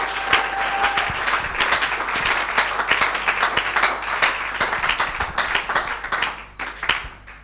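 A church congregation applauds and cheers for Jesus, a dense, continuous burst of clapping with scattered sharper claps throughout, loud and close, with no speech over it.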